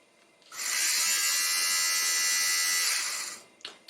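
Handheld electric clothes defuzzer switched on, giving a loud, high, buzzing whine that holds steady for about three seconds before winding down, followed by a couple of small clicks.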